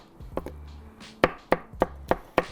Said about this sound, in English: I'm just going to roughly chop up this pepper